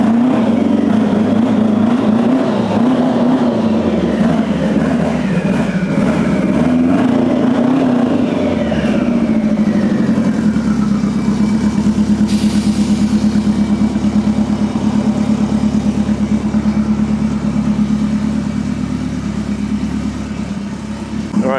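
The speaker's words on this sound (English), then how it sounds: "he's gonna drive it out onto the street" Car engine at a Japanese bodyshop building Rocket Bunny Pandem cars, loud and close, rumbling and revving with rising and falling pitch, then settling into a steady drone as it pulls out onto the street, voices faint beneath.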